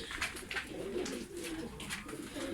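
Several pigeons cooing together in a coop, a soft, repeating murmur, close and steady, in an enclosed space.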